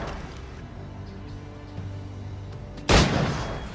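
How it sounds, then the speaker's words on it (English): One loud, sharp gunshot in Assassin's Creed IV: Black Flag, cracking out suddenly over a low game ambience and trailing off in a short echo. "Oh my word, Cornelius was just shot!"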